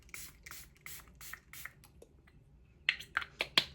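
A series of quick spray bursts from a Vitamask hypochlorous acid facial mist pump bottle, several soft puffs followed by four sharper, louder sprays near the end, with no voices.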